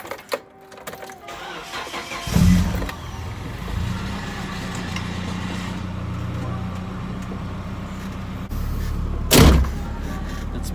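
A Nissan 240SX being started, an engine cranking and catching after about two seconds and then idling steadily, with a thump or door sound near the start and a louder burst near the end.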